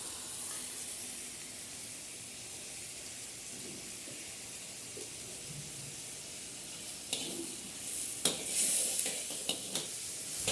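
Masala fries in a pan over a clay stove with a low, soft sizzle, and a few sharper scrapes and stirs come near the end.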